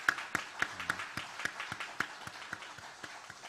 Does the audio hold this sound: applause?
yes